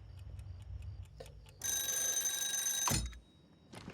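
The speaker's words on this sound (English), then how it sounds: "You can sleep with that ticking sound?" A classic timer in a Better Call Saul episode ticks with soft, evenly spaced clicks, then a bright ringing tone sounds for over a second before it cuts off, with no talk over it.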